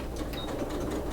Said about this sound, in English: I'm also going to do a back stitch.